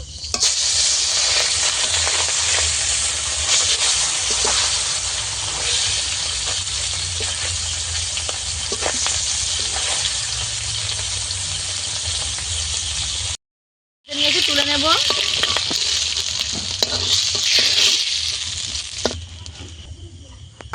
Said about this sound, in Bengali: বাকি মাছগুলোকেও ভেজে নেবো